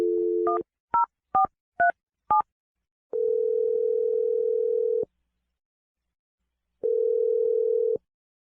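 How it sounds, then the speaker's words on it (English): A telephone number is dialed: a dial tone, then five quick touch-tone beeps, followed by two long ringback tones separated by silence. "I'm going to dial his number right now."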